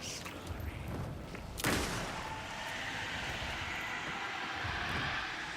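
Enemy gunfire in the Alan Wake 2 video game, a sharp loud burst followed by sustained rumbling fire and a noisy wash, mixed under game ambience.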